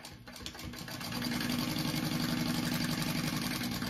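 A sewing machine runs steadily to baste the top of a crossbody bag shut, its motor hum rising in the first second and then holding an even, fast, continuous whir with no talk.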